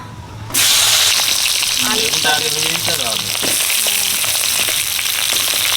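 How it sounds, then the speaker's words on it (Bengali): Eggplant drops into hot oil left from frying tilapia and erupts into a loud, steady sizzle that continues close up, with a voice speaking briefly over it. "তেলাপিয়া মাছ ভাজার তেলে বেগুন ভেজে নেবো"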